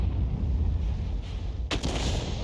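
A single heavy tank cannon blast in World of Tanks, a sharp loud report from a Conqueror Gun Carriage tank destroyer firing on an Object 452K, standing out against steady rumbling background noise.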